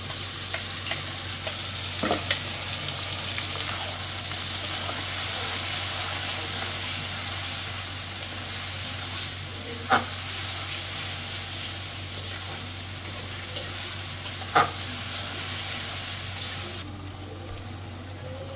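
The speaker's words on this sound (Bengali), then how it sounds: "পেঁয়াজ আলুটা হালকা হালকা ভাজা হয়ে গেছে। তো এখন এই যে মশলাগুলো আমি দিয়ে দিলাম।" Onions and potatoes frying in a pan with ground spices just added, a steady close sizzle running throughout with a few sharp stirring clicks from a spoon against the pan.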